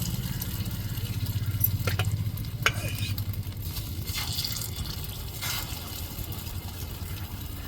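Egg curry being stirred and frying in a pan, a steady close sizzle and bubbling with a few sharp scrapes of the spoon against the metal, no voices.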